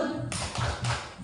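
Rhythmic 'tepuk salut' clapping by a group, a few crisp claps landing in a patterned beat with faint vocal sounds underneath.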